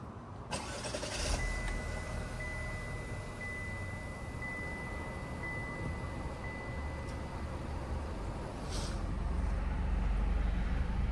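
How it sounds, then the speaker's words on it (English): A 2024 Chevrolet Malibu's 4-cylinder engine idles steadily after starting, a continuous low hum heard from inside the car with a faint whine and no talking. "you guys can hear that 4-cylinder."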